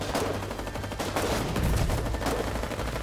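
Continuous gunfire in the Foxhole war game during a winter battle, dense rapid machine-gun bursts and rifle shots layered over one another in a steady, loud, unbroken barrage with no talk.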